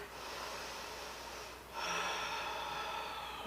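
Breath during a barre workout, starting as a soft steady airflow and then becoming a stronger, forceful exhale near the middle that holds to the end, close and fairly quiet.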